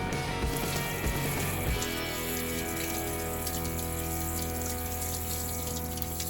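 Freshly caught tautog fillet rinsed under running water, a steady close hiss and splash of the stream with a pump-like hum underneath, continuous without talk.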